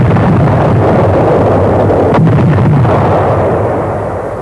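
Naval bombardment of the Tarawa beaches comes as a loud, continuous low rumble of heavy shelling with dull booms, a sharper blast midway, then a slow fade.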